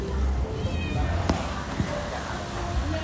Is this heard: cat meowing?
yes